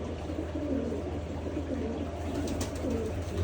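Soft, low cooing of pigeons close by, a continuous murmur over a steady background noise, with no voices.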